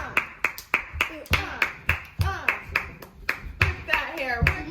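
Hand claps in a home setting beat a steady, uneven rhythm of sharp, close slaps, about a dozen over a few seconds, with singing and talk running through them.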